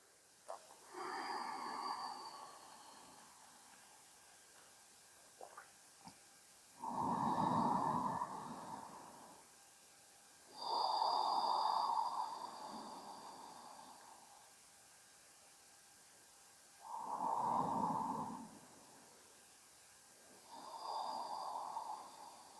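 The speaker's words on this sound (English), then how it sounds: "lengthening your inhales and lengthening your exhales a little more" Slow, deep yoga breaths come in and out: four or five long airy inhale-exhale swells spaced several seconds apart, close and fairly soft against a quiet background.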